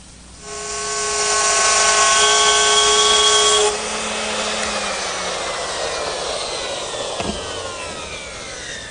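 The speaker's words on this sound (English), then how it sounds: "I've clamped 2 rails side by side here at the workbench, and that's to give me a wider base onto which to run the router." A woodworking router cuts a groove along two wooden rails clamped side by side on a workbench, a loud high-pitched whine that spins up, holds for a few seconds, then drops in pitch as it cuts and winds down.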